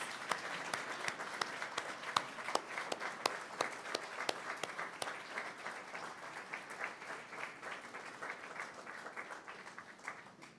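Audience at an awards ceremony applauding together, a steady wash of many hands clapping that fades gradually toward the end, heard at moderate distance with no talk.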